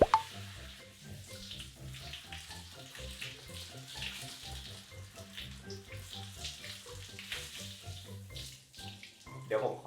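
Water running steadily from a tap while hair is rinsed at home after dyeing, a continuous splashing stream with small shifts as it hits hair and basin.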